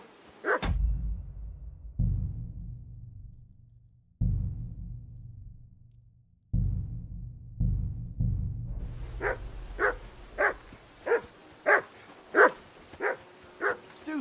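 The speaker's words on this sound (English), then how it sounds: "Be quiet, you flea-bitten hound." Dog barking in the video game Kingdom Come: Deliverance II, with several deep, loud barks spaced apart, followed by a quick run of sharper, higher yips in a steady rhythm.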